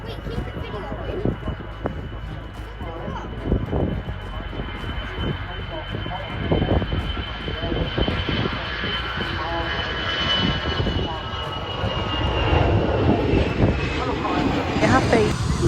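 An Emirates Airbus A380 takes off at Manchester Airport, its jet engines building from a distant rumble into a loud, rising roar and whine, with people talking nearby throughout.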